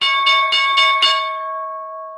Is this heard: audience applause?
no